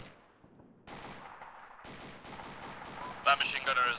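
Heavy machine gun fire in the Arma 2 video game during a co-op combat mission, with bursts of rapid shots and scattered gunfire building in loudness over several seconds, some distant and some close.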